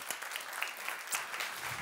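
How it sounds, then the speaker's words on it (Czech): Fairly faint, sustained applause from an audience after a talk at a science and business lecture event, a brief wash of scattered claps heard from a distance. "Tak nakonec je ten potlesk větší, než jsem si myslel."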